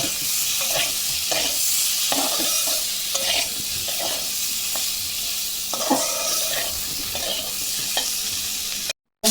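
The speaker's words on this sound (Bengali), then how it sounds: "আমার আলুলা ভাজা হয়ে গেছে" Potatoes frying in oil in a pan, stirred again and again with a spatula: a steady close sizzle runs throughout, broken by repeated scraping strokes, with no talking.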